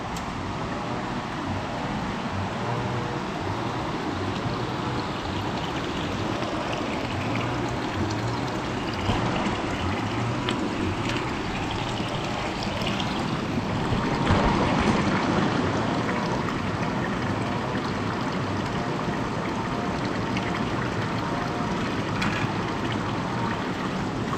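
Water from a clean spring runs steadily in a continuous broadband rush, close and fairly loud throughout, with no voices and a slight swell in intensity midway.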